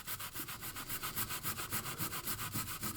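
A wet wipe rubbed back and forth over a model surface, giving a close, steady run of about fifteen evenly spaced scrubbing strokes, each a short bright swish with no talk.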